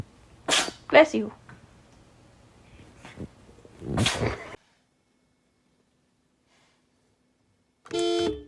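A cat sneezes several times in short, sharp bursts, with a person speaking between the sneezes and a brief beeping sound near the end.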